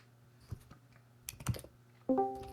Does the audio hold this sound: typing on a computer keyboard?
yes